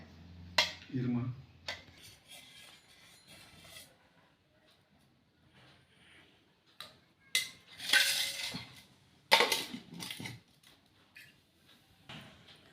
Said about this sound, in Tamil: அஞ்சு ஸ்பூன் அளவு வந்து நெய் எடுத்துக்கிட்டேன்